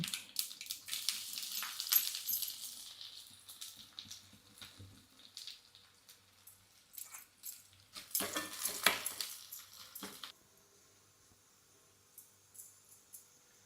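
Mustard seeds, onion and curry leaves hit hot oil in a pan, giving two loud bursts of hissing sizzle and spatter close by, with quieter frying crackle in between and no speech.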